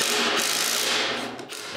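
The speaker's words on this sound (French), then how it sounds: "je peux visser les 2 morceaux ensemble" Two wooden parts of a ceiling-beam camera mount are screwed together, a continuous close whirring ratchet-like driving sound that eases off briefly near the end.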